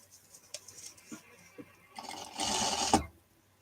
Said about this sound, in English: My sewing machine come unthreaded